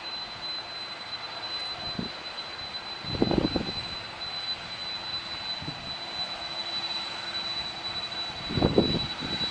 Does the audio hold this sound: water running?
no